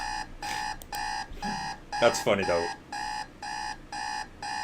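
An alarm clock in a video game beeps in regular, evenly spaced bursts, loud and steady, with a brief spoken remark cutting in partway through.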